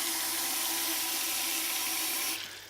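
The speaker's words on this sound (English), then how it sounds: "put a little bit of water to keep it moist. Just cold water." Cold tap water pours steadily into a dish of ribs, a loud continuous splashing hiss lasting a few seconds before it tapers off as the flow stops.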